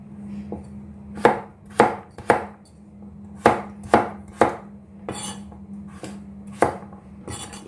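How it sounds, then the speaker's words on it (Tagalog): Bitoon fruit diced into small cubes on a board: a series of crisp knife chops in uneven groups, each a sharp close thud with a short tail, over a low steady hum. "Slice mo lang siya ng maliliit."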